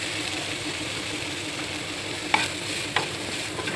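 Washed flattened rice (chira) stirred in a pan with ghee and asafoetida, a steady close frying hiss broken by two sharp scraping knocks of the spoon near the end.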